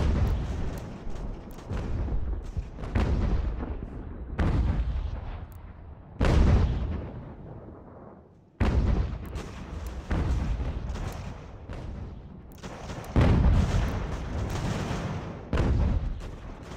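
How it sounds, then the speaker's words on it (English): Repeated heavy artillery booms from mortars and cannons in the Ultimate General: American Revolution strategy game, rolling on and off in loud bursts with short gaps, close and dominant with no talk over them. "We do have mortars here,"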